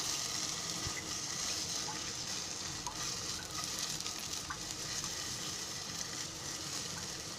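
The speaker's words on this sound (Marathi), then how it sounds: "पनीर पण चांगला भाजला आहे, चांगली फ्राय झाली आहे." Paneer frying in a pan gives off a steady, dense sizzle that holds evenly throughout, with faint scraping of stirring underneath and no voices.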